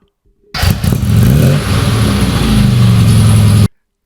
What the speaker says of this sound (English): And we're going in the classic Mini.